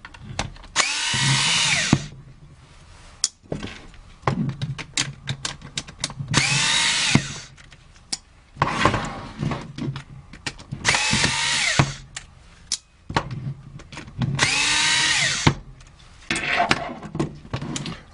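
Power drill backing screws out of the end plates of an HP LaserJet toner cartridge, with repeated loud whirring bursts separated by short pauses and small clicks.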